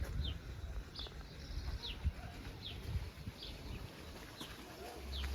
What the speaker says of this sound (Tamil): பறவைகளோட ஒளி